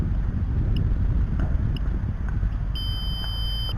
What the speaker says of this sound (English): That's the timer going off there